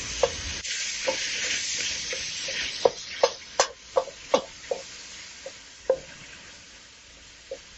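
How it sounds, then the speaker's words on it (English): Ground turkey sizzles steadily in a hot pan while a utensil breaks it up, giving a string of sharp scraping knocks that cluster in the middle and then thin out. "we'll go ahead and add in our ground turkey. And you want to break that up."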